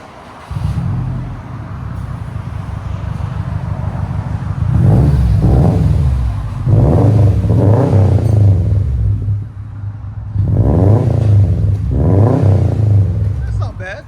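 A 2015 Subaru WRX STI with a 2.5L turbo engine and straight-piped single-exit exhaust revs repeatedly, loud and close, its burbling rumble swelling and falling in several bursts while people talk over it.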